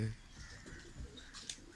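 Fancy pigeons kept in a cage give soft, low cooing, faint and close against a quiet background, with a brief higher chirp near the end.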